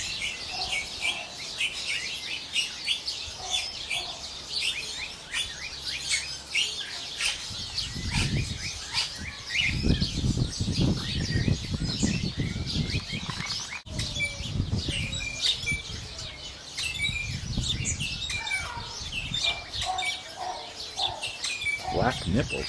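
An echidna gives repeated high, bird-like chirps and squeaks outdoors, scattered throughout, over low rumbling bursts of movement or handling noise.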